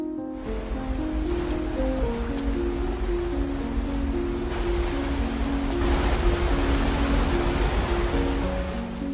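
Rushing water from a waterfall in a film scene fills the audio steadily and loudly from start to end, with sustained low musical tones layered over the broadband roar.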